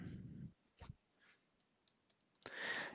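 Typing on a computer keyboard in a quiet room, a few faint scattered key clicks with pauses between them, ending in a brief louder burst of clatter.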